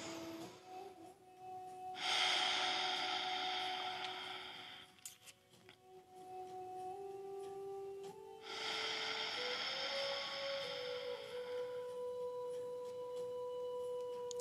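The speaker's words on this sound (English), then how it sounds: "Just starting with some breathing, some pranayama." Deep pranayama breathing indoors during a morning yoga session, with two long, loud hissing breaths through the nose close to the mic, a soft tonal hum running beneath.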